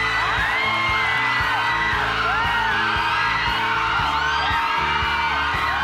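Women in a studio audience of a Thai TV singing-contest show scream, whoop and cheer together, a loud, continuous crowd of high excited voices with overlapping shrieks throughout.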